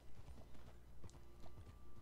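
Horse hooves clip-clopping in Red Dead Redemption 2, a steady, soft rhythm of muffled hoofbeats under a low, even background hum, with no talking.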